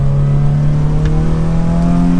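A turbocharged Subaru BRZ on its stock exhaust accelerates, heard from close by as a steady, loud droning engine note that climbs slowly in pitch, with a faint whir over the top.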